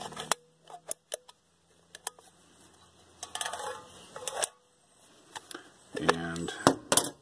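Thin aluminum soda can being cut like scissors, giving a run of sharp snips and metallic clicks spaced through the clip, with a denser crinkling burst in the middle and louder clattering near the end.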